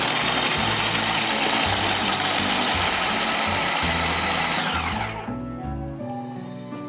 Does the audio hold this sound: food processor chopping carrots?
yes